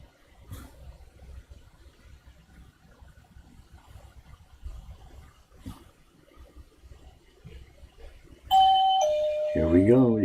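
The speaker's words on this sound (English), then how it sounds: "You can hear this doorbell." After quiet, muffled room sounds, an electronic doorbell rings out loudly near the end, a bright multi-tone chime that sustains and shifts pitch.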